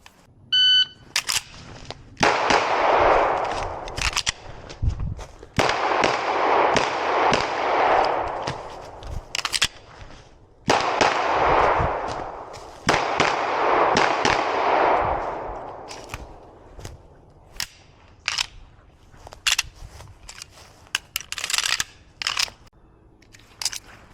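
Smith & Wesson M&P9 2.0 Metal HD Steel semi-auto pistol firing strings of loud close shots in rapid bursts separated by short pauses, with sparser single shots toward the end.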